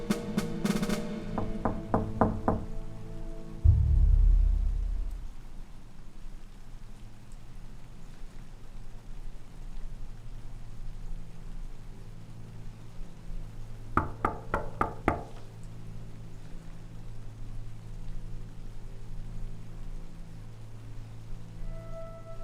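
Knocking on a door at home, heard as two clusters of quick raps, one near the start and another about two-thirds through, over a low steady background hum with no voices.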